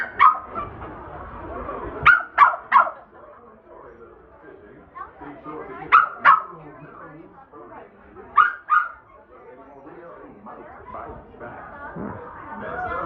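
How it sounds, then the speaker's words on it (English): At a Magic Kingdom Easter parade, a service puppy lets out several sharp, high barks and whimpers in short bursts among crowd chatter and nearby talking. "Sounds like our service puppy needs to go back into more training."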